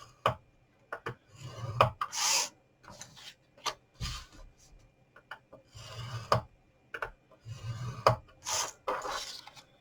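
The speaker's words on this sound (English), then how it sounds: "bring them in and score them at 3/4 inch" Paper being scored at 3/4 inch for small gift packages, giving short, close scraping strokes in separate bursts with brief quiet gaps and light taps between them.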